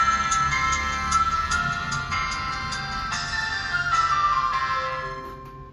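An Itel 2166 mobile phone plays its startup tune when switched on: a bright, chiming ringtone-like melody of evenly paced tonal notes, close and clear, running on alone without talk and fading at the end.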